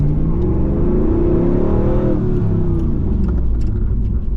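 A 1998 Pontiac Firebird Formula WS6 accelerates under load, its deep V8-style drone heard from inside the car, rising in pitch and then holding a strong, steady roar.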